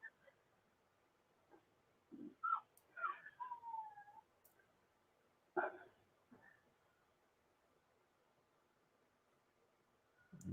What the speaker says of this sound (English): Puppies. Can you hear them? They're waking up.